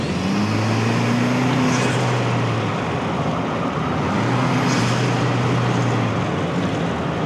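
Steady road and engine noise from a 2024 Toyota Land Cruiser fitted with a K&N 77 series cold air intake, heard from inside as it drives, with two rising tonal swells as the engine revs under throttle and no talking.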